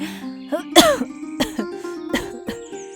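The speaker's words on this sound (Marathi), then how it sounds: "काही वेळपर्यंत खोकलतच राहते" A woman coughing from wood stove smoke: several harsh, closely spaced coughs and throat-clearing bursts near the listener, with brief voiced sounds between them.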